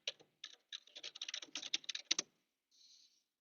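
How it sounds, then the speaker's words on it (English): Quick, light taps of a computer keyboard as a search term is typed, irregular bursts of keystrokes heard close and fairly faint, ending in a short soft trailing sound. "you could find those by just typing in webinar"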